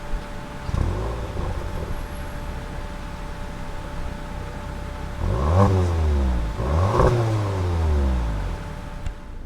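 A 2022 Audi TT 45 Quattro, recorded from outside, starts up, then its engine swells twice in quick revs before settling into a steady idle, with no talk.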